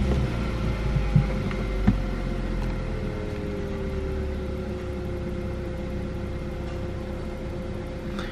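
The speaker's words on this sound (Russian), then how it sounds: "Совершенно небольшое бряканье поршневое присутствует, но оно очень слабое и еле заметное." Cold car engine idling just after leaving the garage, with faint piston knock: a steady close mechanical hum and low rumble, a couple of soft clunks early on and a slight light rattle throughout, no speech.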